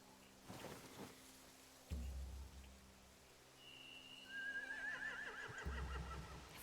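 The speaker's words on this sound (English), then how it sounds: "They have horses." A horse's high whinny in The Walking Dead video game rises and wavers over a low rumbling background, with faint thuds and rain-like patter.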